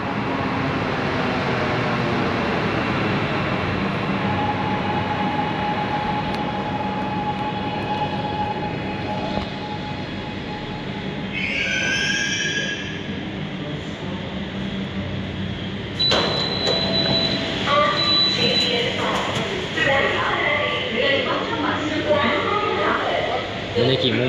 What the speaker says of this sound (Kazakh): Үндістанның пойызына обзор достар. Мумбайдың пойызы.